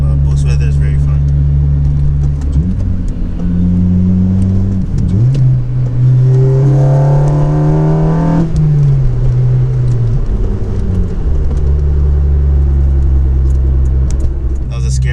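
Honda Civic Si turbo engine in winter driving, a low steady drone that climbs as the car accelerates through gears, dips, then settles back into a rumbling cruise, with occasional talking over it.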